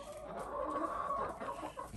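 Backyard chickens clucking near the coop, a few soft close clucks and murmuring calls that run on for about two seconds with no talking.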